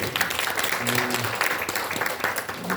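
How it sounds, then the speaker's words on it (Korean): A crowd at a national village policy meeting applauds a guest, a short, dense round of clapping with voices mixed in underneath. "박수 한번 쳐주세요."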